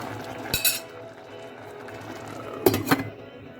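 Two metallic clinks of a lid being set onto a cooking pot, a short clatter early and a louder double clink later, over a faint kitchen background.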